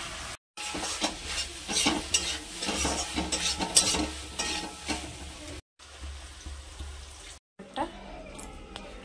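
Ridge gourd curry with mustard paste and tomato sizzles and fries in a pan with steady stirring scrapes, broken by two brief silent gaps, while someone talks intermittently over the cooking.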